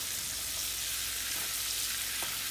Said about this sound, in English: you're gonna get that brown butter flavor on there, it's one of the best ways to cook your steak.